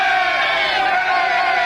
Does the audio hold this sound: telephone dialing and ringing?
no